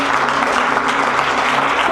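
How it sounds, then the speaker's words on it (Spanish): A church congregation applauds together, a dense steady wash of clapping that holds at full strength from start to finish with no voices standing out. "Démosle un aplauso fuerte al Señor, mis hermanos."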